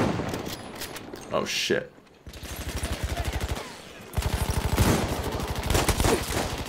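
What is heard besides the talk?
gunfire from the player's gun in a video game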